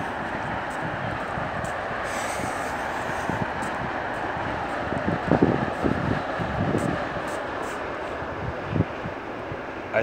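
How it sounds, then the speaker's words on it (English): A train rumbles steadily past on the rails, a continuous loud roar with clacking wheel thuds mixed with wind noise. "I hear the train."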